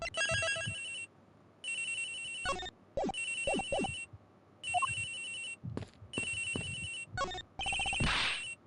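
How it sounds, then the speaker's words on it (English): A cell phone ringtone in the Ace Attorney Investigations video game chimes in repeated bright bursts with short gaps, mixed with soft game effects and brief thuds between rings. "Ringing's coming from somewhere in here, sir."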